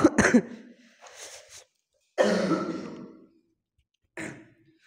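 A few harsh coughs close to the mic, a sharp burst at the start, then two more throaty coughs separated by silence, ending in a short breathy exhale.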